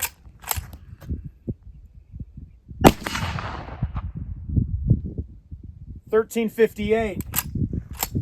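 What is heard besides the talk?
44-40 duplex load gunshots fired at targets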